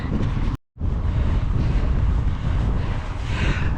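Strong wind buffets the microphone of a cyclist riding into a 20 mph headwind on flat ground, a loud, continuous roaring rush that drops out briefly near the start before surging back.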